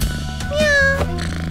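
A voice imitates a cat's meow in a cartoon, one drawn-out, wavering mew rising and then falling, fairly loud over a steady musical background.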